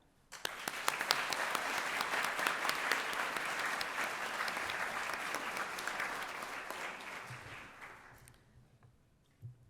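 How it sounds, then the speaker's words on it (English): Audience applause at a graduation ceremony for a prize recipient, beginning suddenly, holding as a dense, even clapping for several seconds, then tapering off into near silence. "that person, which we will give a round of applause to"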